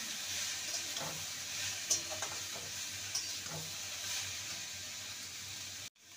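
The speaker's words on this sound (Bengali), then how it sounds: "এবার দিয়ে দেবো বাঁধাকপি। ভালো করে নেড়ে নেব।" Cabbage being stirred while it fries in a pan, heard as a faint, quiet sizzle with a few soft, scattered spatula scrapes before the sound cuts off abruptly.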